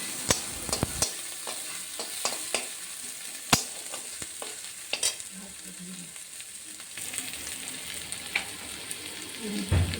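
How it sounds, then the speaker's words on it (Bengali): Ground spice paste of ginger, cumin and chili with salt and turmeric frying in a pan for a spicy mourala fish curry, a steady close sizzle broken by sharp scraping clicks of a spatula stirring, with no talking. "তারপরে বেটে রাখা মশলা, আদা বাটা, জিরে বাটা, লঙ্কা বাটা, লবণ হলুদ দিয়ে ভালো করে মশলাটাকে কষিয়ে নেব।"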